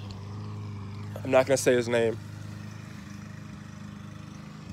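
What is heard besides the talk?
lawn mower mowing grass in background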